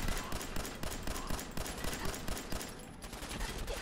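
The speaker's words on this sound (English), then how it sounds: "Stop shooting me." Enemy gunfire in the game Fallout 4 sounds as rapid, continuous automatic bursts, a dense crackling fusillade throughout at moderate level.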